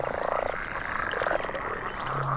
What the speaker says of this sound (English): Frogs loudly call for a mating partner.